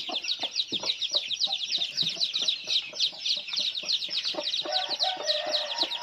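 Newly hatched farm chicks cheep steadily for their mother hen, a dense stream of high, rapid peeping close by, mixed with lower clucks and soft scratching taps.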